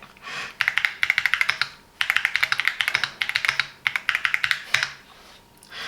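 Fingers type on a Keychron Q6 Max wireless mechanical keyboard in quick bursts of crisp, clacky keystrokes with short pauses between runs, close and clear.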